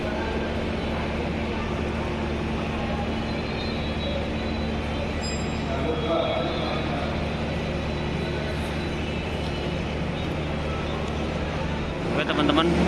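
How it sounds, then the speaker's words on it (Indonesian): The Doho 369 passenger train stands at the Blitar station platform, a steady low rumble of idling locomotive and station ambience throughout, with a brief clatter near the end and voices in the background. "kereta api Doho 369 sudah tersedia di jalur 2 stasiun Blitar"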